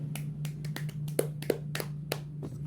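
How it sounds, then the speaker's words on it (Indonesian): Scattered, sharp hand claps ring out in a quiet classroom during a microteaching lesson, about a dozen irregular, light strikes over a low steady electrical hum. "Tepuk tangan dulu."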